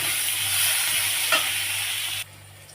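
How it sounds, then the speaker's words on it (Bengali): Chopped onion and green chilli fry in hot oil with a steady, close, dense sizzle that holds for about two seconds, then suddenly drops to a quieter hiss. "আমি পেঁয়াজ কাঁচা লঙ্কা কেটে নিয়েছি, এখানে দিয়ে দিব আমি তেলে।"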